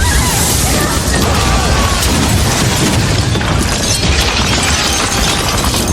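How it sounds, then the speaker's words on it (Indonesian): A powerful explosion in a film scene roars as a dense, loud, sustained blast of rumble and crashing debris, filling the whole span without pause. "alat pelacak yang kemudian disusul dengan sebuah ledakan hebat"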